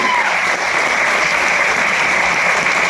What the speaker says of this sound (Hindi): एक बार जोरदार तालियां चाहता हूं